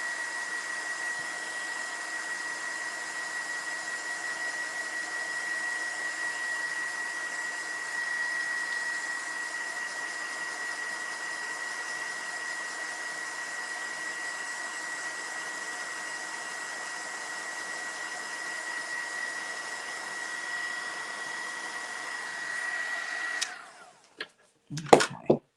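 A hair dryer drying paint on a miniature autumn decoration blows with a steady, fairly faint whir and a thin high whine for over 20 seconds, then clicks off with some handling knocks.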